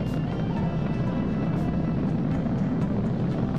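SpaceX Falcon 9 rocket engines roar in a continuous, dense rumble during a crewed launch to the ISS, steady and unbroken for a few seconds with no voices.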